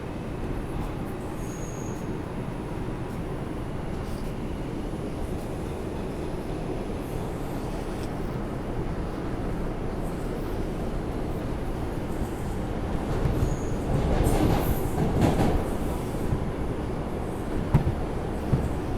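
An R142 subway train pulls out of Pelham Parkway station, a continuous low rumble that swells and rattles louder toward the end, with faint squeals, no talk.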